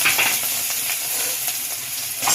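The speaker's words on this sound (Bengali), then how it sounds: "তেলে কালো জিরে ফোড়ন দিলাম, রসুনটা ছেড়ে দিলাম" Steady, loud sizzling and crackling of nigella seeds, garlic and slit green chilies frying in hot oil, a continuous close hiss with small pops throughout and no talking.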